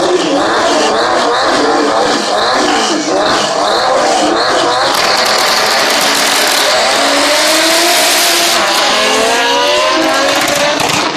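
Import drag race cars launch and accelerate hard down the strip, engines roaring loudly and continuously with rising revs and gear changes at close range, no talk over them.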